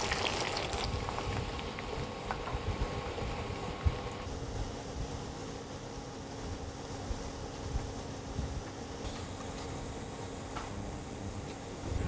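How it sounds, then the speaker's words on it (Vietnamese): Sliced garlic frying in hot oil, a steady broadband sizzle and hiss that holds continuously at moderate loudness throughout, with no talking. "Sau khi dầu đã nóng thì bắt đầu mình cho cái tỏi đã thái lát này vào chiên vàng nhé"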